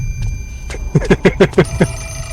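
An old-style telephone bell rings in the video game Fatal Frame 4: Mask of the Lunar Eclipse, sounding as about six quick, evenly spaced metallic trills over a low background hum.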